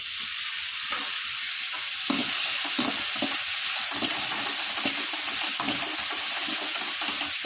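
Tomatoes frying in a pan with onions and green chillies, stirred steadily for pasta, giving a continuous close sizzle with scraping spoon strokes and no talk.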